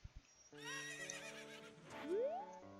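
A horse in the video game Ocarina of Time neighs in one long, close whinny that rises and then falls, with a few brief hoof clops just before it.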